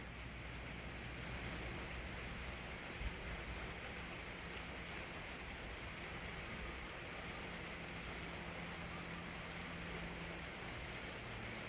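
Steady rain falls with a constant even hiss that neither builds nor fades, and no voices are heard.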